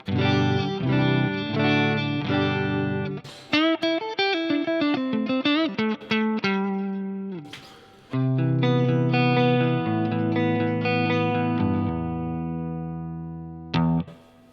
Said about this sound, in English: I am of course playing a Fender Telecaster and I'm going to a Vox AC15